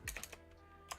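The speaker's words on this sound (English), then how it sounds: "Oh, terrible typing." Keyboard typing in a quiet indoor room: a short burst of soft, quick key clicks with a final tap, faint and close, with nobody speaking.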